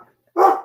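An excited pet dog lets out a single loud, close bark after a brief quiet moment, the sound tailing off quickly.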